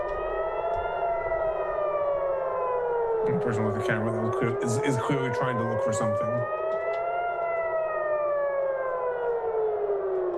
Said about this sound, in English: sirens in real time